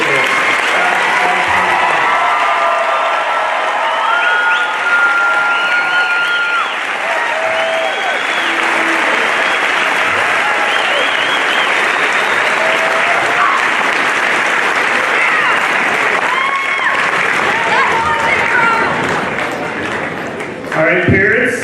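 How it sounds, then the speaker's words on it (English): A large crowd at the Boone High School 2025 graduation applauds loudly and without pause, dense clapping with cheers and whoops rising through it for the full stretch. "Let's have one more round of applause for the"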